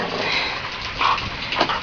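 Dog growling low and rough while playing catch outdoors in the rain, with rain noise throughout and a couple of louder snarling bursts near the end, close to the microphone.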